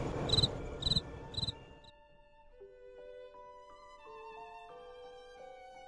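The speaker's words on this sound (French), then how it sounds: "chante le petit grillon en sortant du mur" A cricket chirps in a quick run of three bright pulses at the start, then stops as soft sustained musical tones take over.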